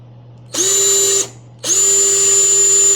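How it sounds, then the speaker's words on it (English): A power drill bores holes for self-tapping screws in a bow panel, two loud, close bursts of high whining motor, the second longer, separated by a brief pause over a low steady hum. "drill up my other holes"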